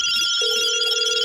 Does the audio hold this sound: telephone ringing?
yes